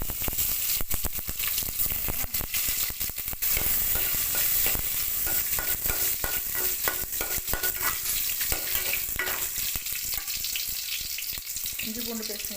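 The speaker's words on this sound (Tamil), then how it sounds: "அந்த சின்ன வெங்காயத்தை போட்டு லைட்டாக தான் போடுறேன்." Small onions and fennel seeds fry in hot oil, making a dense, continuous sizzle broken by rapid stirring clatters and scrapes against the pan, loud and close throughout.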